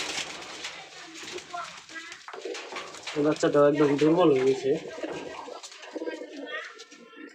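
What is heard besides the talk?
pigeons cooing in a loft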